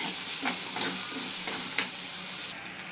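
Onions and drumstick pieces fry in hot oil with a constant sizzle, while several scraping stirs come through at irregular intervals.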